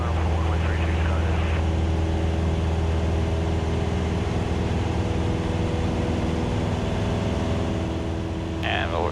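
A small training airplane's engine at full throttle in a climb makes a loud, steady droning roar with a strong low hum, close and continuous, while an instructor talks over it.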